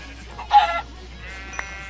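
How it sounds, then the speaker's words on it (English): Minecraft chicken clucking in the video game, a short burst of bleat-like animal calls near the middle, fairly close and loud, followed by a faint brief call later, with no talk over it. "Look at all that chicken!"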